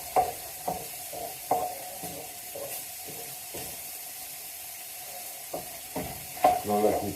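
Lean beef mince fries in a pan with a soft, steady sizzle, broken by repeated scraping and stirring knocks that come louder and faster near the end.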